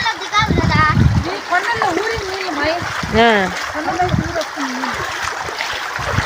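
Water rushes and splashes where two canals join outdoors. The flow is a steady, close gurgle that runs through the whole clip, and people talk over it almost the entire time.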